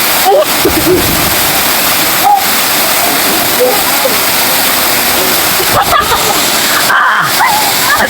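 Water pours steadily at Abang Falls, a broad continuous rush close by with occasional splashes, while people talk over it.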